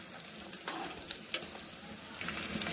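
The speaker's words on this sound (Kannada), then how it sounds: "ಈರುಳ್ಳಿ ಚೆನ್ನಾಗಿ ಫ್ರೈ ಆಗಲಿ." Onions fry in a pan for chicken sambar, a close, steady sizzle with a few sharp stirring clicks and scrapes, no voices.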